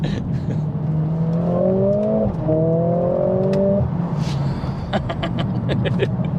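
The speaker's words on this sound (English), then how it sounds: "that's when you hit the red line and the gearbox gets a bit confused" A nearby Mercedes-AMG A45 S engine revs hard in first gear under launch control, pitch climbing to the red line, cutting briefly, then climbing again before easing off, followed by faint clicks.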